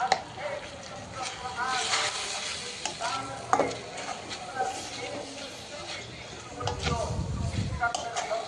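Spiced chicken curry is stir-fried in a pan, with scraping spatula strokes and bursts of sizzling over a steady frying hiss, and a voice talking at times over the cooking.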